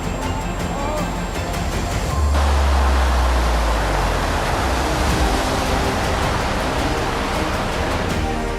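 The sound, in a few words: tsunami waves approaching port in Japan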